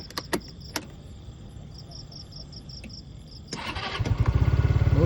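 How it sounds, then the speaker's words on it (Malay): A Modenas Elite 150S motorcycle engine starts near the end, rising into a steady close idle with a rapid low pulse, after quiet ambience with faint insect chirps and a few clicks. "First kita start dulu motor ni untuk kita tengok lampu dia."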